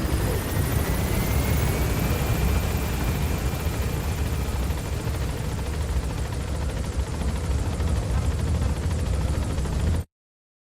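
A helicopter climbs in the Metal Gear Solid V: The Phantom Pain game, its rotor and engine roar loud, dense and steady for about ten seconds before cutting off abruptly.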